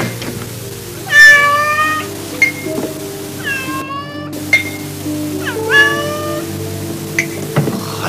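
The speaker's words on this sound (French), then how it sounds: "Ces chats nets sont pénibles." A cat in an animated film meows several times, loud, drawn-out cries with rising and falling pitch, spaced apart over a steady low musical background.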